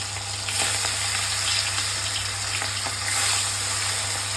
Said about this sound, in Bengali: তেল গরম হয়ে গেছে, বসিয়ে দিয়েছি মাছ ভাজা